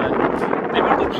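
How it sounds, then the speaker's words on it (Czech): Hard gusts buffet an outdoor microphone on a hot, sunny California hilltop near an observatory, a loud rumbling roar throughout, with someone talking through it. "Já nevím, jak dobře mě slyšíte, protože tady dost fouká."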